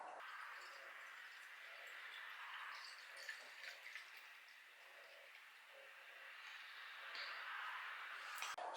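St Austell Proper Job IPA being poured, a soft, steady liquid rush and fizz lasting several seconds, quiet and close with no talking.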